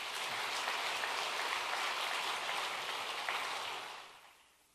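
A church congregation welcoming its pastor with hearty applause, a dense, even patter of many hands clapping that holds steady for several seconds and then fades away.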